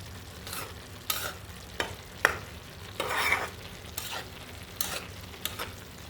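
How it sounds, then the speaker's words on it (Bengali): Snake gourd and potatoes fry in a pot on a stove running low on gas, a soft steady sizzle broken by repeated scraping stirs at a slow, uneven rhythm. "চিচিঙ্গার সাথে আলু দিয়ে ভাজি করতেছি।"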